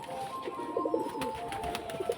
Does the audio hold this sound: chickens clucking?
no